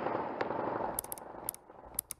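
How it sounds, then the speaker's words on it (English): Gunfire picked up by acoustic ShotSpotter sensors placed around New Bern, heard as a few sharp, distant cracks in short bursts over a faint, hissy background. "sensors that are located throughout the area are picking up sounds of gunfire"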